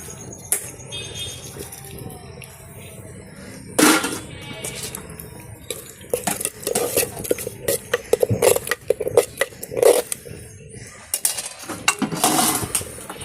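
Sweet pongal being mixed in a pot, with repeated metallic scraping and clinking of a spoon against the vessel, irregular and close, building into busier clatter toward the end.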